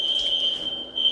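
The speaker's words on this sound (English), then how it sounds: "we got an alarm going out there." A hotel fire alarm sounds a piercing, steady high-pitched electronic tone, heard from somewhat off in the building and continuing without a break.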